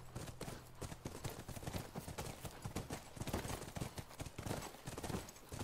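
Rapid, continuous clip-clop of horse hooves in the video game The Last of Us Remastered, steady and close, with a faint whinny and a low background hum.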